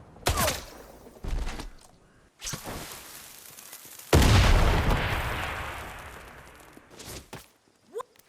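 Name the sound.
gunfire in the video game Atomfall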